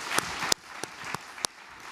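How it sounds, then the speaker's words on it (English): A few scattered claps ring out at a small talk event, then applause tapers into sparse individual claps over about two seconds, faint and close. "Yeah, I will clap."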